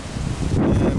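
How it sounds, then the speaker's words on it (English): Wind blows outdoors in Louisiana, a brief steady rush and rumble against the microphone that swells louder halfway through, with no talk. "maybe too windy out here for this review."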